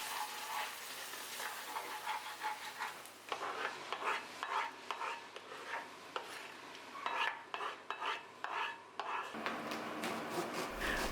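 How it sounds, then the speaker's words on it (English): Cream goes into a hot pan to deglaze it, followed by a steady close sizzle and repeated scraping, stirring strokes of a utensil against the pan, with no voices. "Then I'll add some cream to deglaze the pan."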